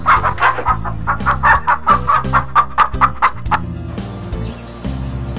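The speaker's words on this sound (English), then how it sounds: "Rooster." A cartoon rooster crows and clucks in a rapid run of bright calls over a steady, bouncy children's music backing, with no talking.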